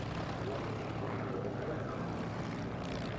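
Propeller aircraft flying a display pass at a British air show, a steady distant engine drone with a low, even rumble that holds throughout without a break.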